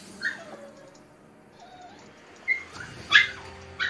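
A dog whimpering and whining in thin, high, drawn-out cries, several short whines spread across the moment, close and fairly quiet, with no one speaking.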